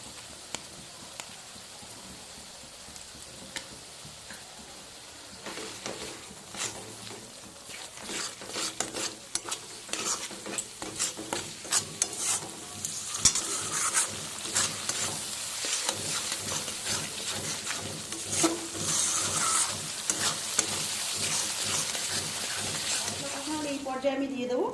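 Spices and ginger paste fry in a pan for a vegetarian potato dum curry, giving a soft crackling sizzle that grows louder as a spoon stirs and scrapes with rhythmic clinks.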